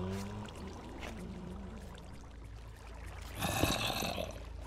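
Flowing water in the video game Minecraft streams steadily with a pouring, rushing character, swelling louder toward the end.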